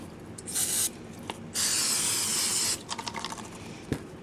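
Bursts of aerosol spray paint hissing onto an ornament in short and longer blasts, with light rubbing and clicking handling sounds between them.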